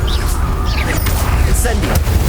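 In the Hogwarts Legacy video game, a Confringo explosive spell bursts with booming blasts amid dense, busy combat effects and chirping magical sounds, loud and continuous.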